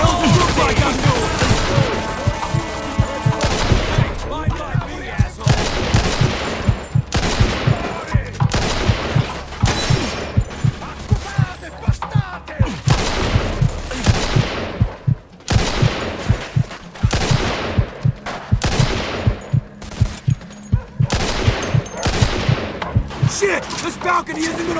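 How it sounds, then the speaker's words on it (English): Sustained gunfire in a Mafia II shootout, with rapid bursts and repeated loud shots crackling throughout, along with shouting voices under the barrage. "Just keep shooting."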